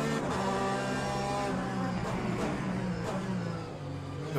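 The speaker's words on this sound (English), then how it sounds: "that LMP2 sounds so good on the overrun" An LMP2 prototype race car's engine drones steadily on overrun in the Le Mans Ultimate racing game, a sustained buzzy harmonic tone that stays close and fairly loud throughout.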